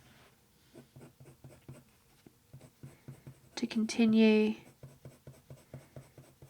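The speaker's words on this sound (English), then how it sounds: "now I'm going to use the nougat pencil" Colored pencil strokes rhythmically scratch across paper while blending leopard-eye spots with a nougat-shade pencil, steady and close, with a brief louder vocal burst partway through and a voice talking softly over the drawing.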